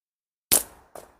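A slingshot fires at a can with one sharp, loud crack from close by after a silent moment. A fainter secondary smack follows about half a second later.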